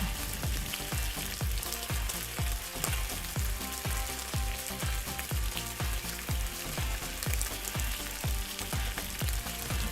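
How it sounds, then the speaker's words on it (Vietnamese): Hot oil at medium heat bubbles and sizzles loudly and continuously, crackling with rapid pops as pork hock deep-fries. "Sau khi dầu nóng thì mình bắt đầu cho móng giò vào chiên giòn."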